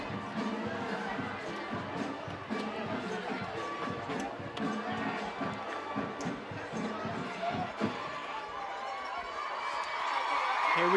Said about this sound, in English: You can just hear the crowd. It's absolutely packed tonight. Full stadium.